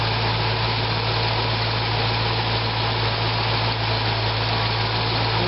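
A Corvette engine runs just after its air-conditioning belt was replaced, giving a steady, unbroken low hum and drone at close range, with no speech.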